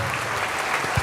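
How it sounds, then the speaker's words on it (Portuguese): Church congregation clapping together during a worship service, a short stretch of loud, dense applause filling the room with a faint voice underneath. "vamos aplaudir o Senhor Jesus por cada vida preciosa que está chegando"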